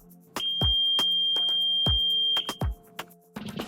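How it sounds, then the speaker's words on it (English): A Garmin GOS 10 hub buzzer sounds a man overboard alert on a boat: a steady, piercing high electronic tone holds for about two seconds amid scattered clicks and low thumps, then stops. "The buzzer will also sound a loud alert."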